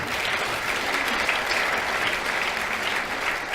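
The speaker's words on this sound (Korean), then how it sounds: "여러분 큰 박수 한번 보내주시기 바랍니다" Steady, dense applause from a crowd at a political party national committee meeting, continuous and evenly loud throughout with no pauses.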